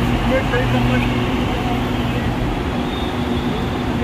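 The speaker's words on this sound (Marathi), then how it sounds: "आली गाडी अरे मेट्रो मेट्रो मेट्रो" A metro train pulls into the station with a loud, steady low rumble and hum that fills the platform from start to finish, up close.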